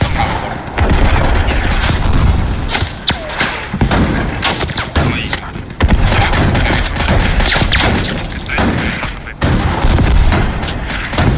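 Dense, continuous bursts of gunfire and booming explosions from a video game battle, loud and unbroken, with a voice speaking now and then beneath the barrage.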